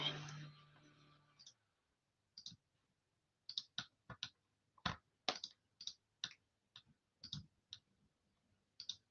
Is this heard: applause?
no